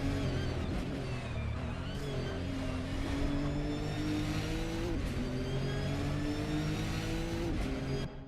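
Onboard a Nissan GT3 race car, the number 61 Takane Louis Nissan, at Fuji Speedway: a loud, continuous engine drone with rising and falling revs through gear changes, close and unbroken for the whole stretch.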